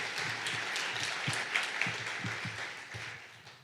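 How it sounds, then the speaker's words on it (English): Audience applause honoring a Boys and Girls Club team at a Youth of the Year event, a steady wash of clapping that stays fairly even and tapers slightly toward the end, with faint voices underneath. "Round of applause for this amazing team"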